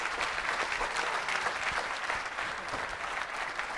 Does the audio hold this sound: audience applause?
yes